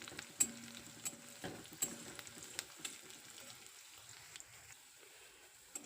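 Fennel seeds fried in hot oil, a faint low sizzle broken by scattered light clicks and scrapes of stirring, heard up close and quietly.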